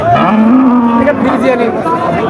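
Dairy cows at a busy cattle market, a loud close drawn-out moo followed by lower lowing, with crowd chatter and voices in the background.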